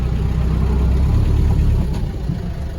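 A 1994 Land Rover Defender 110 with the 300Tdi diesel engine sits in reverse gear, its engine rumbling loud and close in a steady, deep idle for a few seconds.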